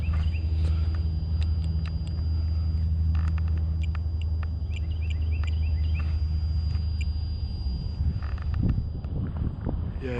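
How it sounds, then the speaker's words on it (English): A car approaches and passes along a narrow non-private road, its engine rumble building slowly beneath a steady background hum, with a little talk and some faint outdoor chirps. "Got a car coming."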